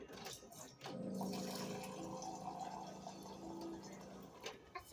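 Hot water pours into a cup for tea in a steady stream lasting about three seconds, a faint close gurgling fill that rises slightly in pitch before stopping, with a few soft clinks around it.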